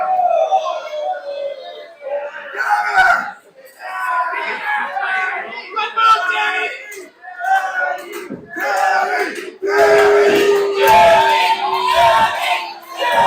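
A wrestling crowd cheers and chants in loud swelling waves, with shouts and sustained, tonal yelling rising and falling across the arena while commentators talk over the noise.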